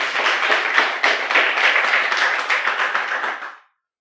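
A church congregation at a Spanish-language service claps together as an offering of praise, a loud, dense round of hand clapping with a slight pulsing rhythm that holds steady and then stops abruptly near the end.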